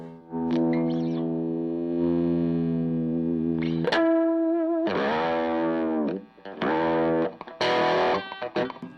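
Electric guitar played through a vintage Australian overdrive pedal: a sustained distorted chord rings out, then a run of gritty, heavily driven phrases and choppy bursts, with no speech.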